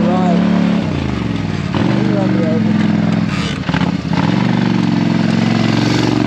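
A four-wheeler ATV engine runs steadily and loud at close range, a continuous low rumble with a slight dip partway through, while people talk over it.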